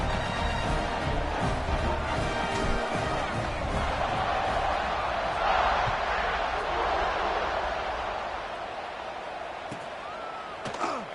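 Football stadium crowd at an Auburn versus Georgia college game during a kickoff, a loud, steady roar of many voices and broadband noise filling the stands, with a swell around the middle and easing slightly toward the end.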